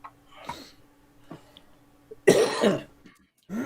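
A few separate coughs, one faint and small early on, then a louder, harsher hacking cough, with quiet pauses between.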